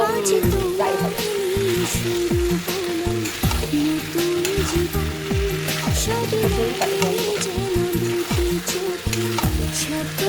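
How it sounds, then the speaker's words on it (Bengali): Potatoes fried and stirred in a pan, a loud constant sizzle with repeated scraping of a spatula over the metal, close up and without any break. "আলুটা কষিয়ে নিচ্ছি সামনে একটু জল দেবো এবং কথা দেখো একদম ফ্রাই"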